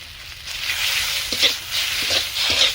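Ground cumin and spice paste frying in a pan, a continuous close, loud hiss with small swells as the paste is stirred.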